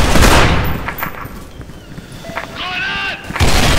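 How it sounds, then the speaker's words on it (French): Grenades bursting near the spawn area in a first-person shooter game, several loud booming blasts opening and closing the stretch with softer crackling reports and electronic tones between, no talk over them. "ça c'est les grenades en dehors du spawn, hein, c'est normal."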